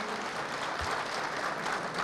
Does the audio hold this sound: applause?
yes